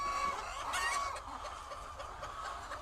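White laying hens cluck and chatter softly in a group, with overlapping calls over a steady background hum from fans.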